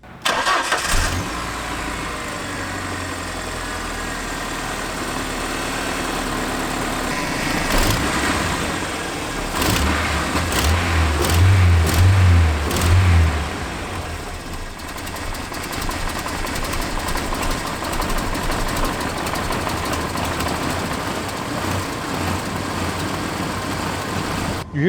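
Ford Ranger four-cylinder engine running rich, revved repeatedly with swells of throttle around the middle before dropping back to a rough, steady idle; loud and close, no voices.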